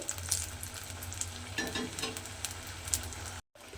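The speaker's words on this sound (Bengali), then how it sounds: "তাই এইভাবে গ্যাসটা লোতে দিয়ে একটু উল্টে পাল্টে এগুলো লাল করে ভেজে নিতে হবে।" Potatoes fry in a pan over a low gas flame, giving a constant soft sizzle with occasional stirring scrapes, quiet and close, cutting out briefly near the end.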